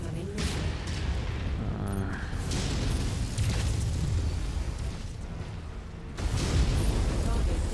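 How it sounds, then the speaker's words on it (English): Heavy rumbling explosions and booms from an ammo explosion on a damaged Zeus mech in MechWarrior, a dense continuous barrage with a fresh loud blast late on. "It's got an ammo explosion."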